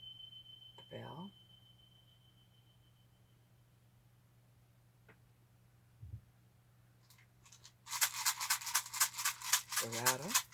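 A handheld rattle shaken in a sound healing session gives a bright, dense burst of rapid shaking near the end, loud and close, following a fading bell tone and a brief spoken word.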